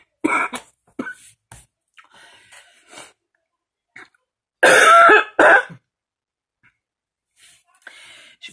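Several loud, harsh coughs come in bursts close to the listener, with a double cough in the middle and quiet breaths between them.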